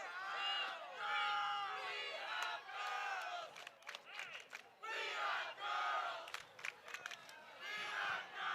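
A crowd at a high school varsity boys soccer game cheers and yells in loud sustained surges that rise and fall, with a commentator talking between the bursts.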